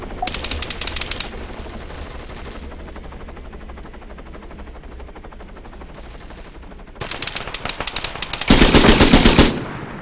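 Automatic gunfire in the video game Arma 3, rapid bursts of shots near and loud, with a brief pause midway and a denser, louder burst near the end, no talk.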